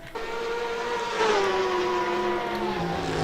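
A Porsche 911 RSR race car drives through a double right-hander at Donington Park during a GT2/GT4 multiclass race. Its engine note is loud and sustained, and its pitch swells briefly and then drops away.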